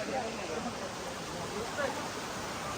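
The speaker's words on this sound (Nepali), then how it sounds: "पानीको आवाज जहिले पनि मिठो छ है" Water flows in a forest stream in Shivapuri National Park, a steady rushing hiss throughout, with faint murmured voices of hikers nearby.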